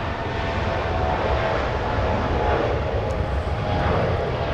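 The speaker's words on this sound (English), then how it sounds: "WestJet 1511 flying to Calgary. That's the 737-700. A departure on runway 24 left." A WestJet Boeing 737-700 departs Los Angeles International Airport on runway 24 left, bound for Calgary. Its engines give a loud, sustained, broadband jet roar that holds steady throughout, with no voices.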